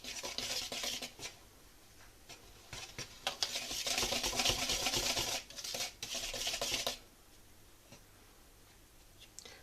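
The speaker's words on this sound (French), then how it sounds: "Je vais mélanger." Semolina, baking powder, vanilla sugar and salt for baghrir are stirred in a bowl, making close, gritty scraping strokes in uneven bursts, loudest mid-way, then tapering to quiet.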